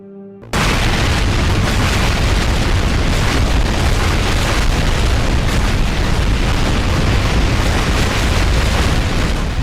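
An underwater nuclear bomb test explosion roars as a massive, continuous broadband rumble that begins abruptly after half a second of quiet and stays loud and dense, heavy in low bass, to the end.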